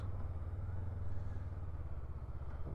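A 2024 Honda CB 500 Hornet, a 47 brake horsepower bike, drones steadily while riding, a deep continuous engine rumble mixed with wind, with no speech.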